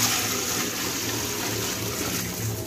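Water is poured into a large pot of beef biryani, about 15 kg for 10 kg of rice, as a steady, continuous rushing stream close by.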